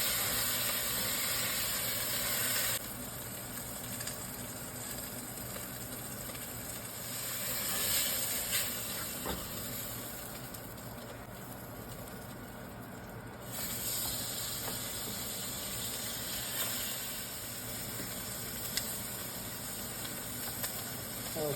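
Beef short ribs sear in a hot pan for braising, a steady broad sizzle and hiss running continuously for a long stretch, close up, with occasional small crackles and no speech.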